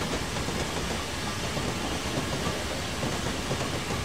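A steam locomotive in Train Simulator 2016 runs on a cargo shunting job, a steady, dense rumble of engine and wheels on rails heard alone without voices.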